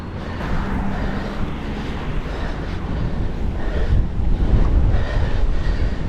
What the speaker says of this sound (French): Et toujours ce vent.